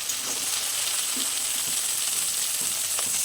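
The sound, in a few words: ginger garlic paste frying with onions in pan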